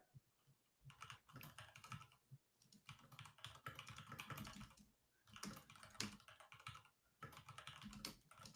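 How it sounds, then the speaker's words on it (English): Keyboard typing in ASMR style, with quick, close, crisp key clicks in bursts separated by short pauses, quiet and intimate. "Keyboard ASMR."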